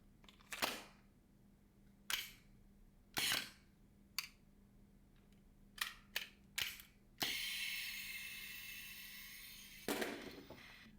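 An ASG Commander XP18 airsoft Glock replica leaking gas gives a series of sharp, close mechanical clicks, then a sustained loud hiss that fades over several seconds, with no voices.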